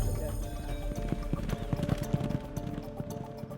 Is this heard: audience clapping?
no